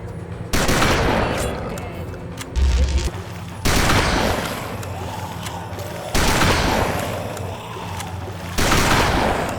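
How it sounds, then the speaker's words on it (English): Double-barrel shotgun firing in a first-person shooter game, heavy booming blasts arriving in pairs and single shots roughly every few seconds, loud and close with a rumbling tail after each. "The secondary double-barrel shotgun offers true semi-auto fire, which I found handy for delivering a quick 1-2 punch"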